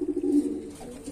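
A large male grizzle pigeon gives a single brief, close, low coo, steady and humming, with little else around it.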